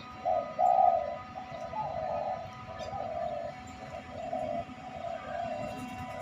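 A spotted dove coos in low, soft repeated phrases over a faint background hum, the calls coming steadily through the clip.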